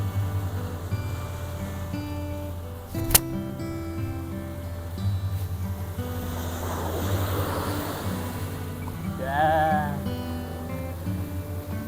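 Sea waves washing in along the rocky shore near Hornby Lighthouse at South Head, Watsons Bay, Sydney, a steady wash and rumble with wind noise, one sharp knock partway through and a brief chirping sound near the end.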